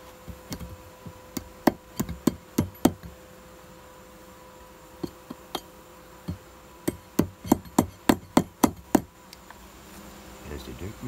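Hammer blows on a nail during work around a beehive, sharp knocks in irregular bursts that speed into a quick run of strikes, close and distinct over faint background buzzing.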